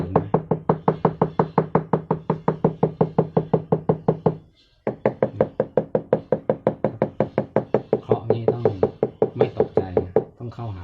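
Rapid, evenly spaced knocks tapped on a bottle holding a betta fighting fish, ringing with a hollow resonant tone, pausing briefly halfway, then resuming with a few scrapes near the end.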